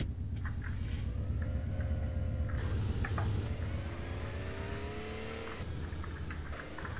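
Car engine in GTA San Andreas driven in first-person view, a steady low rumble with a rising and falling revving whine, fairly quiet and continuous, with no talking over it.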